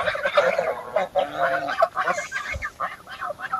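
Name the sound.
ducks quacking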